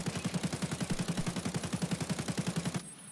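Full-auto burst from an AK-74M rifle in Escape from Tarkov: a rapid, evenly spaced string of around two dozen shots over nearly three seconds, then an abrupt stop.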